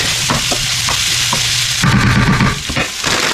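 Onion, celery and minced garlic cooking in a soup pot give a steady, close sizzle with a few stirring scrapes, louder in the second half.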